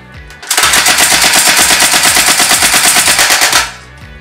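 A CYMA CM023 airsoft MP5 fires one sustained full-auto burst of about three seconds into a hand at close range, a loud, rapid, even mechanical chatter that starts and stops abruptly, with no talking.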